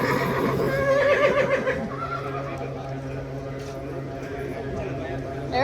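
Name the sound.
horse whinnying at a horse sale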